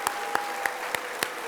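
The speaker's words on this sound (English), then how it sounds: "let us all just give a round of applause to all these folks" Audience applause at the grand opening of the East Link light rail extension, with a steady patter of clapping and a few sharper, closer claps standing out at regular intervals, brief and moderately loud.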